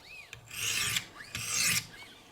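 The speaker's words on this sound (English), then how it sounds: "I'm just using the weight of the blade as I finish this grit." Knife blade of a Benchmade Altitude in S90V steel drawn over a Wicked Edge sharpening stone, two distinct rasping strokes, close and fairly quiet, with light clicks between.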